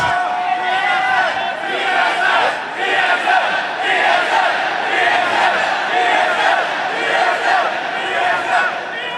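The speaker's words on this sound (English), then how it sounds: "you get a fantastic applause" A large crowd at a League of Legends World Championship match roars and cheers loudly and continuously, a dense wash of voices shouting together with no pauses.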